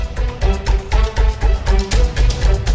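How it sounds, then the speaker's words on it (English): A Keurig coffee maker finishing a brew, giving loud rhythmic pulsing gurgles and sputters repeating about every third of a second, close by with no talk. "That's the sound of the Keurig finishing up my coffee."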